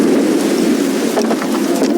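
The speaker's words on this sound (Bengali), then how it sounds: "অনেকক্ষণ ধরেই এই বৃষ্টি পড়ছে, খুব ঠান্ডা পড়েছে।" Rain falling steadily on a raft at sea, a dense loud patter and wash without pause, with small sharper drops standing out against the continuous downpour.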